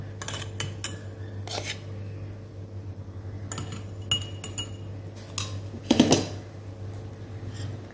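A spoon clinks against a glass as falooda is added for homemade rose milk, giving a few scattered light chinks over a steady low kitchen hum, with a brighter clatter near the end.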